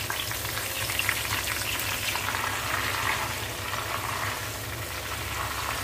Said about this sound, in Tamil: நல்லா பொறிச்சு எடுங்க, முறு முறுன்னு இருக்கும்